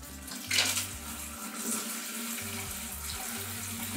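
Water runs steadily from a tap at a kitchen sink where a washing machine is being connected, a continuous close splashing hiss with a low rhythmic hum beneath it.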